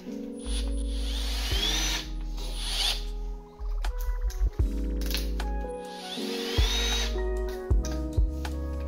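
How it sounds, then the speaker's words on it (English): A power drill spins a ball hone inside a rusty engine cylinder of a Honda B16, giving a loud whining motor hum that surges and drops in several bursts with brief pauses between. "Take my ball hone, take my drill."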